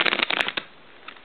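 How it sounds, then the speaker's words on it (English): A deck of thin-cardstock playing cards is riffle-shuffled close up, giving a quick burst of crisp flutters and snaps that stops within half a second, followed by a faint tap. "When you shuffle, watch."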